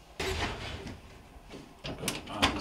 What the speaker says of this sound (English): Pop this door open.